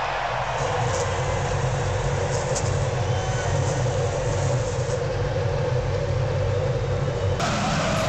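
IndyCar race car engines rumble together in a low, steady roar as the field rolls off at the start of a race, continuous and dense with no voices.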